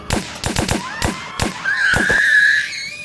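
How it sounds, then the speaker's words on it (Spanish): A rapid, uneven string of sharp, loud bangs, then a high, sustained scream rising over them. "Comenzamos a oír disparos por la ventana afuera"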